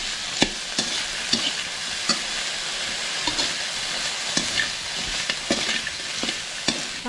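Shrimp sizzles steadily in a little oil in a pan, with regular clinks and scrapes roughly every half second as it is stirred until crispy. The sound is close and continuous, with no voices.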